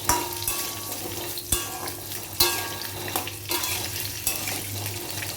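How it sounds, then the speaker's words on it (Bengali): Potatoes sizzle steadily in hot oil while a utensil stirs and knocks against the pan in irregular strokes, close up with no talking. "আলুটা বেশ একটু তেলের মধ্যে নাড়াচাড়া করে ভাজবো।"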